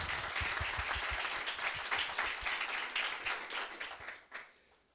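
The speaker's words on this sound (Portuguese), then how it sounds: "pedir a todos uma salva de palmas ao nosso presidente, Terence Sveiter, pela dedicação à NDD." An audience applauds at a formal sports-law panel event, a brief burst of steady clapping that fades out over a few seconds, fairly distant and moderate in loudness.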